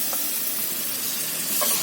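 Marinated vegetables hit hot oil in a kadai, a loud, close, continuous sizzle and hiss with small crackles, no voices.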